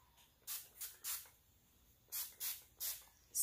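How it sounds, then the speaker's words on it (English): Six short bursts from a hair spray bottle, close and crisp, in two groups of three, each a quick hissing puff with quiet gaps between. "and it has a strong spray, y'all."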